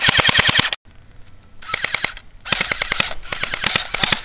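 An ICS L86 airsoft support rifle firing on fully automatic: three loud, close bursts of rapid, evenly spaced snapping shots, separated by short pauses with faint mechanical clicks.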